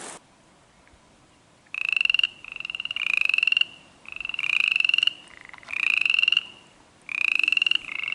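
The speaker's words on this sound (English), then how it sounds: "I think what we'll do is we'll start with those frogs." Tiny frogs call from a winter pond in short bursts of rapid, buzzy trilling croaks, five distinct loud choruses separated by brief near-silent gaps, close by and with no talk.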